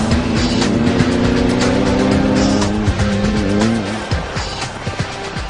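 Off-road race cars roar loudly with revving engines and squealing tires, the engine note climbing steadily before fading into rougher bursts, heard close up at a rugged desert race.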